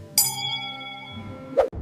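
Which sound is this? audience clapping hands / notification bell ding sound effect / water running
notification bell ding sound effect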